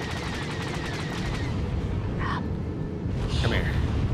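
Gunfire in Star Wars The Old Republic, with a few short bursts of shots at about 2.3 and 3.4 seconds over a steady, dense game background and low rumble.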